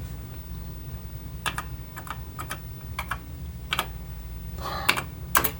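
Keys clatter on a Radio Shack TRS-80 Model 1 computer's bouncy keyboard in irregular bursts of sharp clicks, close and fairly loud over a low steady hum.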